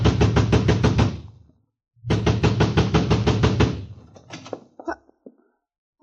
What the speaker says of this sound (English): I ran to the front door and began pounding.